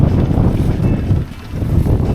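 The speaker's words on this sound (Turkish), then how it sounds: "Hah, evet sağanak geldi şu an hissediyorum." Wind gusts buffet a sailing boat at sea, a steady loud low rushing roar over the microphone with a brief dip before picking up again.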